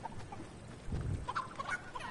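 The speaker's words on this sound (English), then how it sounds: "Oh my god, these chickens are so annoying." Chickens cluck in a video game, a short burst of overlapping clucks and squawks at fairly low volume with no talk.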